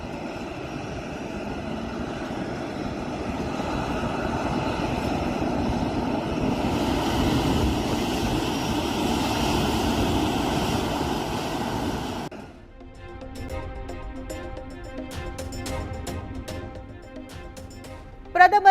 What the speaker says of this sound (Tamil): முதல் முறையாக தாய்லாந்தில் இருந்து சென்னைக்கு வந்த கார்கோ விமானம் வாட்டர் சல்யூட்